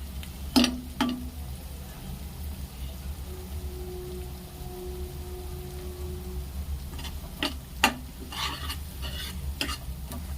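Kaju gathiya curry cooks in a pan as a spoon stirs it, giving sharp scraping clicks at the start and again near the end over a low, steady simmer, without voices.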